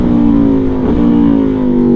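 An Aprilia Tuono V4 motorcycle with an aftermarket exhaust holds a loud, steady engine note close by, with a brief dip in pitch midway before the tone settles again.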